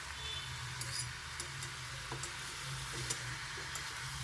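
Fish heads rubbed with chilli powder, salt and turmeric fry in a pan, giving a steady, moderate sizzle with occasional soft ticks and pops throughout, no talk.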